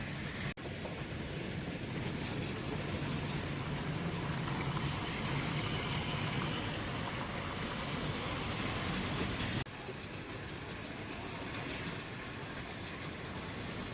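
A model railway shunter locomotive runs with a rake of wagons around the layout, giving a steady close rolling rumble with faint clicking wheels, uninterrupted for most of the stretch, then slightly quieter near the end.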